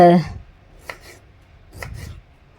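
A knife cuts something into small thin slices, two short quiet rasping strokes about a second apart, following a brief tonal sound at the start.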